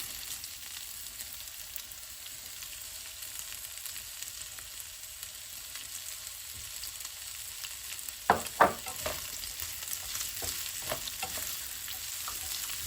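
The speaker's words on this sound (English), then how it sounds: "we are going to add 1 onion and 2 cloves of garlic that are chopped" Chopped onion and garlic frying in a pan, a faint steady sizzle throughout, joined midway by a few sharp scrapes and stirring knocks, then a quieter crackle.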